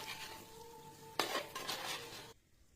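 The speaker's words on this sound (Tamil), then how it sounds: "நல்லா நாலு கலக்கு கலக்கி விட்ருவோம்" Cassava chunks scrape and clatter against a pan under a spoon in a few quick stirring strokes over a soft frying sizzle, then stop abruptly; no talking.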